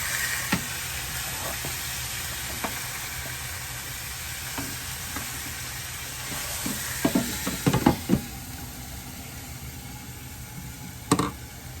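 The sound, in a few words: thick pork chops frying in a pan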